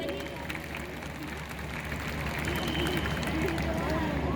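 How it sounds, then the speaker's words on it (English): Students in a DPS school audience applaud for the speaker's father, a steady roar of clapping that swells slightly louder toward the end, with crowd murmur and voices mixed in. "So a big round of applause for him."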